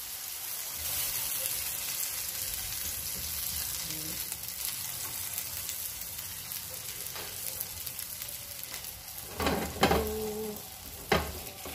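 An eggplant omelette with tuna sizzles steadily in a frying pan, a constant close crackle of hot oil, with a few clanks and scrapes of a utensil near the end.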